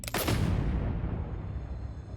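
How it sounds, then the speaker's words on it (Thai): A single sharp bang at the start, followed by a long rumbling decay that fades slowly, with no voices. "ไม่นานก็ได้ยินเสียงปืนดังขึ้นหนึ่งนัด"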